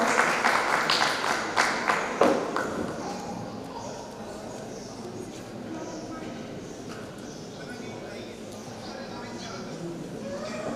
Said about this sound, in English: Give a huge round of applause for them.